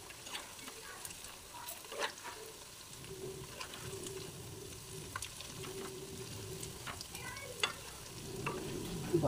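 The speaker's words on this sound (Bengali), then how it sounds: "এইভাবে ভেজে নিতে হবে" Raw banana fritters fry in hot oil with a continuous soft sizzle, punctuated by faint scraping and clinks of a spatula turning them in the pan.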